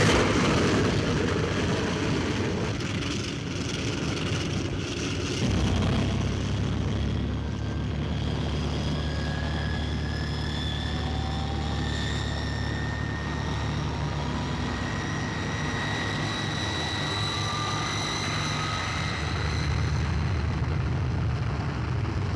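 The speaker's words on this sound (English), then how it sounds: "This is the captain speaking to you from the flight deck. We're about to take off now." An airliner takes off, its engines roaring steadily in a cabin interior; the drone deepens and thickens midway as power builds, with rising whining tones layered over the continuous rumble.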